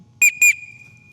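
Two short, sharp whistle blasts in quick succession at an air rifle range, signalling shooters to re-rack their air rifles, followed by a faint lingering tone over a quiet background.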